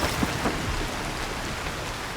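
Steady heavy rain pours through a night scene in the climbing game Cairn, a dense continuous wash with no voices over it.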